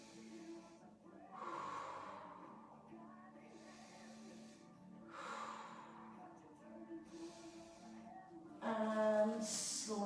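Slow, deep breaths during a mobility and stretching class, each long, airy inhale or exhale rising and fading about every two seconds, close and soft over a faint tonal background.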